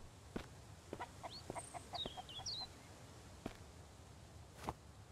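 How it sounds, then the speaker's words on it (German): Chickens clucking faintly in the survival game Mist Survival, scattered short clucks and chirps at a distance over low background noise, with a few soft thumps like footsteps. "Ja, irgendwie sind hier Hühner."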